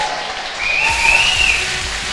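Crowd at a live school event applauding a DJ, a loud, rushing patter of many hands with a sustained whistle rising over the clapping midway.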